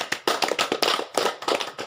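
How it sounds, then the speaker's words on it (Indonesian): A small group claps at a health and nutrition training session, a handful of loud, close, uneven hand claps in quick bursts over about two seconds. "Mari kita tepuk tangan untuk kelompok bubur."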